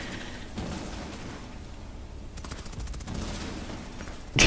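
Video game gunfire, rattling bursts of automatic shots over a steady battle din, heavier in the second half and ending with a sharp loud blast.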